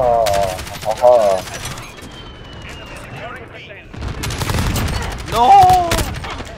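Bursts of heavy automatic gunfire from a VTOL aircraft in Call of Duty: Modern Warfare, rattling in two main stretches amid game effects, with voices talking over parts of it.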